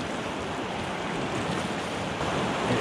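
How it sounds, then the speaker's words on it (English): Whitewater rapids on a river, water pouring over rocks in a steady broadband rush, loud and close with no break. "See the water pouring over the rock?"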